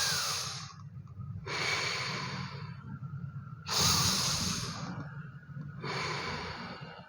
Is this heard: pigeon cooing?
no